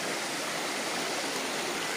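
A steady rushing of flowing water from a stream near a waterfall, close and continuous, with no voices.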